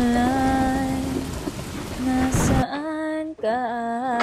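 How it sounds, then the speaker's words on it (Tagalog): Rain falls steadily in a continuous soft patter behind louder sustained tones that come and go, with no talk. "Halos buong July umuulan"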